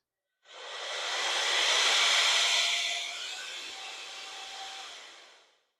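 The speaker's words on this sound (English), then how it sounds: "I have to say I'm very impressed with this air duster with 3 separate speeds." A rechargeable cordless air duster with three speeds and a 100,000 RPM motor blows a steady, loud whooshing hiss that swells for about two seconds, then eases slightly and runs on before cutting off, with no talking.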